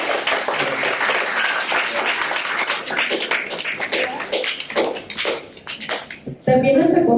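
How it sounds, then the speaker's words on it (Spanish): Audience at a book presentation at a university clapping for a speaker, a dense burst of applause that thins into scattered claps before a voice starts speaking at the end. "Les pido un fuerte aplauso para Sergio"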